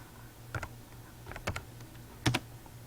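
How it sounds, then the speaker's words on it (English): Keys clack on a computer keyboard in short, close bursts of a few strokes each, separated by pauses over a faint steady hum. "I want to type in a teacher's name"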